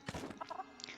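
Chickens cluck in the Palia video game in a quick burst of short, close clucks lasting about a second.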